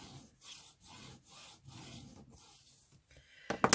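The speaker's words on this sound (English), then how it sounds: "let's give it a burnish and see" Paper in a lapbook folio journal is burnished with steady back-and-forth rubbing strokes, close and moderately loud, ending in a sharp knock.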